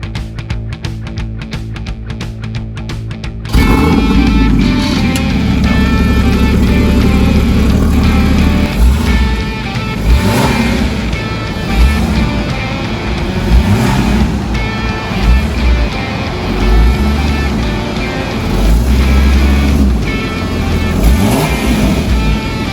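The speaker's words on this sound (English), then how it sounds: "now I will show you how the car sounds" A Porsche GTS car engine, a loud, steady drone with rising and falling revs and road rumble, heard close and continuous without talk.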